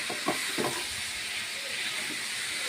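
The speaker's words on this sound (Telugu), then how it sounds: "ఇప్పుడు వీటిని కూడా కొంచెం ఆయిల్లో వేయించుకుందాం." Boiled potato and broccoli pieces fry in hot oil, a steady broadband sizzle and hiss throughout with faint stirring sounds underneath.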